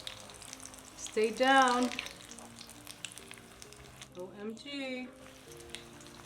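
Gojiya, a spiced coconut dough, frying in oil makes a soft, steady sizzle that runs under a woman's brief exclamations and talk.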